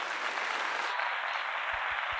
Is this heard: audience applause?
yes